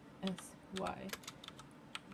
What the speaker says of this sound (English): Trying to video while typing on a keyboard is not fun.